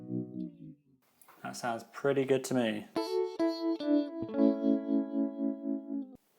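A harmonic tremolo guitar effect built in JavaScript, heard on sustained guitar chords that pulse with a steady wobble, following a short stretch of talk.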